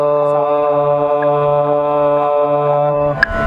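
The seven-note practice lesson of the Riyaz singing app plays through a speaker as a steady, sustained drone-like tone, fairly loud and uninterrupted, with no talking over it.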